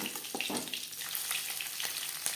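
Live-caught shing fish sizzling and crackling in hot oil, a dense continuous spatter with sharper pops scattered throughout, close and fairly loud.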